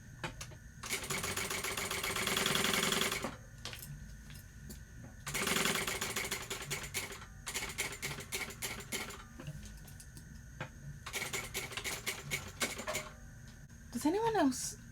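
A sewing machine stitches across the bottom of a backpack in several loud, steady bursts of rapid needle clatter, with pauses between runs and a brief voice near the end.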